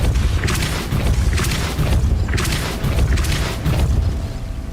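Depulso spell effects in the video game Hogwarts Legacy, several deep booming whooshes in a row, each a loud burst of rumbling noise that swells and fades, close and alone.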